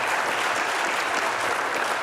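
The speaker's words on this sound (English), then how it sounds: "how about a nice round of applause for Mr. Schnepp, Mr. Mark Schnepp" A studio audience claps steadily in a loud, continuous round of applause, with no voice heard over it.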